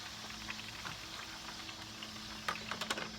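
Onion cooking in a pan, giving a soft steady sizzle with faint crackles and a few sharper pops near the end, heard close and fairly quiet with no talking.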